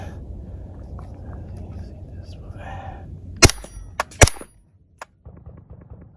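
Suppressed subsonic rounds are fired from an APC9K pistol-caliber carbine fitted with a suppressor. About four sharp, muffled cracks come close together, each spaced a half-second or so apart. Faint wind and a quiet voice sit between them.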